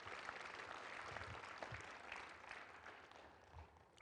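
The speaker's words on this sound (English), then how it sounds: "Give everyone a round of applause at this time." An audience at a humanitarian summit opening ceremony applauds, a faint, distant wash of many hands clapping that holds steady and slowly tapers toward the end.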